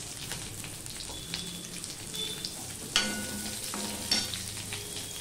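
Chopped onion, slightly smaller than medium, sizzling in a pan for a garlicky flat bean dish, with a steady frying hiss broken by a couple of sharper stirring clatters near the middle.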